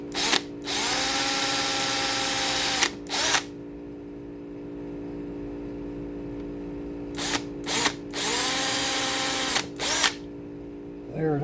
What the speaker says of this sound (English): but I'm going to drill me a little mark